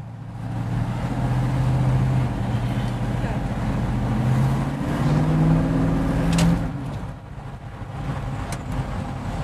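A 1956 Chevrolet Fastback is driven on the road, its engine a loud close rumble that rises and falls through gear changes before easing off, with a voice talking over it.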